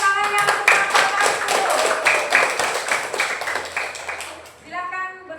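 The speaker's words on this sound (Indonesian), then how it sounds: "Beri tepuk tangan yang untuk kelompok" A small classroom group claps in a quick, rhythmic, loud burst to welcome a presenting student group, the crisp hand claps running in a steady pattern before a voice begins to speak.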